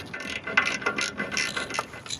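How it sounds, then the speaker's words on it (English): A ratchet on a universal joint extension clicks in quick, uneven bursts while loosening a transmission pan bolt hidden behind a catalytic converter, a close, light metallic ticking with no voices. "now I'm going to be using this universal joint extension for this tricky bolt hidden behind the catalytic converter"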